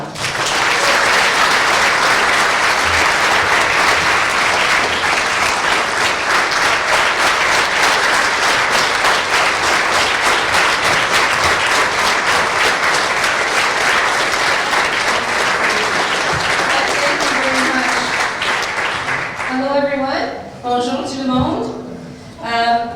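Sustained, loud applause fills a luncheon room in Thunder Bay as the Ontario NDP leader is welcomed, steady for about twenty seconds before tapering off while a voice begins speaking.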